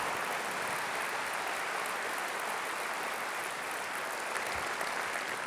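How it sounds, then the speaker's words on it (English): Sustained, dense applause fills a Liberal Democrat autumn conference hall, a large audience clapping steadily and evenly for several seconds with no voices rising above it. "Round of applause for Hannah."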